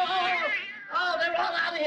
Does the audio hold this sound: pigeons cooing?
no